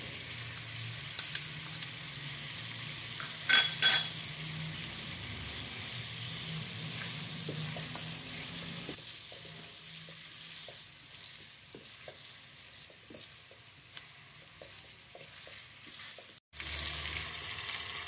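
Ginger garlic paste fries in a pan for a Punjabi desi-style chicken curry, giving a steady low sizzle with a few stirring scrapes and clinks early on and a brief pause near the end, with no talking.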